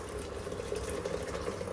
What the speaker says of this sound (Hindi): वो हम इसमें उबलता हुआ पानी डाल देंगे।